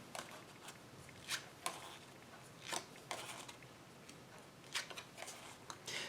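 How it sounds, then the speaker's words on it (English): Playing cards drawn one by one from a deck during a solo game of Baseball Highlights: 2045, a series of soft, brief card slides and snaps spaced irregularly, close and quiet. "I'm going to draw 6 cards"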